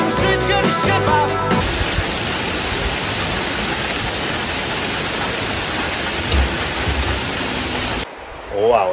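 A sudden rain shower in Poland pours down heavily as a loud, dense, steady hiss of rain on surfaces, preceded by a moment of music and ending abruptly.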